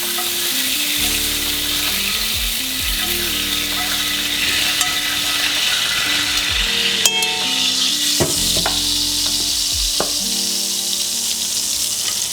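Pieces of meat fry in a hot pan, a loud continuous sizzle with occasional clinks and stirring scrapes throughout, close and without talk.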